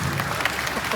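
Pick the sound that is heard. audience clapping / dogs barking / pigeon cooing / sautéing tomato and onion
audience clapping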